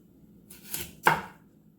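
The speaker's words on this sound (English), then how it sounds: "I'm just gonna cut this kind of thin." A kitchen knife slices thinly through an ingredient on a chopping board for a chicken-in-a-pot dish, two quick close cuts landing half a second apart with a crisp thud on the second.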